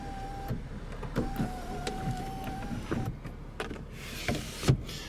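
Electric sunroof shade motor in a 2017 Lexus ES350 3.5 L V6, a steady low mechanical whir running throughout at moderate level, with a few soft clicks and thumps along the way.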